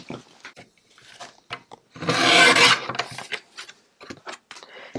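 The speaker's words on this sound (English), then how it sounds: "So I'm going to trim up this card first." A recycled Christmas card is trimmed with a paper trimmer, giving a short rasping slide of the blade across the card between scattered light clicks and handling taps, close and otherwise quiet.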